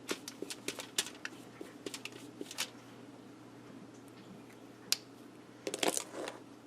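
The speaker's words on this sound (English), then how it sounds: "Making all kinds of crinkly noises for my audience." Crinkly handling of craft supplies and baby wipes, with Distress Crayons in use: close, faint, irregular rustles and crackles, a quick run of small taps early on and a denser crinkly flurry near the end, with no speech.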